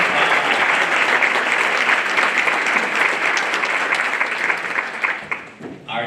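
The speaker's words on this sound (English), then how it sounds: "how about a big round of applause for Colton's guests and dignitaries" Loud, sustained applause from a large audience at a state students of the year awards ceremony, dense even clapping that fades out near the end.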